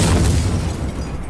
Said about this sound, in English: We don't actually take any damage when the explosion goes off